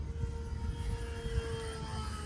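An E-Flite Sportix RC airplane flying on 4S power, a high, steady electric motor whine with a sustained tone, heard at a distance over some wind buffeting.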